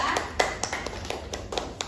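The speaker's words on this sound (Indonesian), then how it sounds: "Tepuk tangan kepada kelompok 2." Scattered hand claps from a small group in a classroom, fairly soft and uneven, with a few sharper claps standing out.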